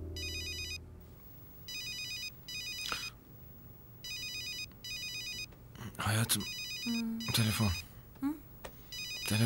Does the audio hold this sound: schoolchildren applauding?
no